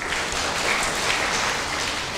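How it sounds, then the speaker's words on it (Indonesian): Classroom audience applauding together, a steady, even wash of many hands clapping at moderate level for the whole stretch, with no talking over it. "Tepuk tangan buat kita."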